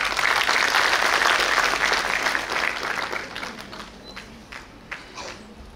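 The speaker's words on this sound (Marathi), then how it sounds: "आपण त्याचं जोरदार टाळ्या वाजवून स्वागत करूया" An audience claps loudly to welcome a student speaker at a school event in Maharashtra honouring Ahilyadevi Holkar's tricentenary and Women's Day. The dense applause is strong at first, then gradually thins and fades toward the end.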